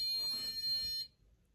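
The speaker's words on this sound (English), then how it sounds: "when it's like the set very loud, the alarm just like goes off." An electronic sensor alarm sounds a steady, piercing high-pitched tone for about a second, then cuts off abruptly into quiet room noise.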